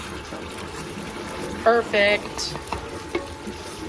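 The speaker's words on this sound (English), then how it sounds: "Let's give it a little stir in action." A pot of gumbo with vegetables and sausage is stirred, with a few scraping, bubbling stir sounds under a low steady simmer; someone speaks briefly over it.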